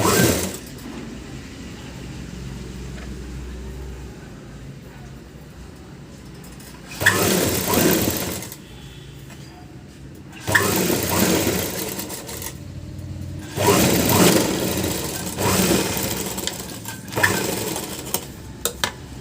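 Sewing machine stitching a blouse piece in several bursts of fast whirring, separated by quieter pauses of handling and low background hum.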